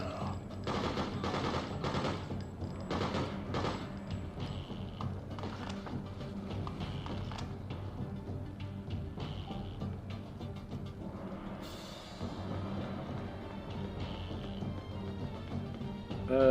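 Video game gunfire rattles in rapid bursts of automatic shots, dense at first and continuing in scattered volleys throughout, at moderate loudness with no talk.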